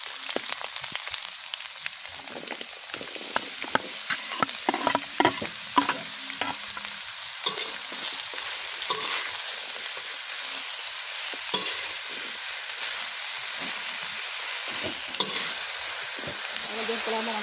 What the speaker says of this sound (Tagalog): Bibisa po ako ng sibuyas para din sa aming ampalaya with itlog